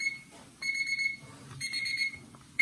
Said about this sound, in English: that was a 5 minute timer